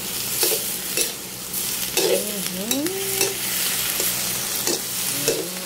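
Vegetables sautéing with garlic in a pan, a steady close sizzle broken by the scrape and clatter of stirring, with no one speaking.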